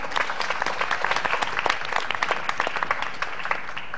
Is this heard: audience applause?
yes